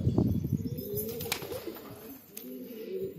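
Pigeons coo in low, repeated throaty phrases close by, with a few brief rustles and chirps in between.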